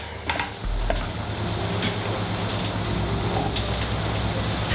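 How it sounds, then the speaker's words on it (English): Garlic sizzles in hot oil in a scalding wok, a steady close crackling hiss that swells just after the start and holds evenly, with a few light clicks of a utensil. "So a nice bit of oil in there. The fragrance of that is just coming straight up off the pan."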